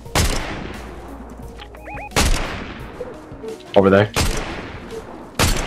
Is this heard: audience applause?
no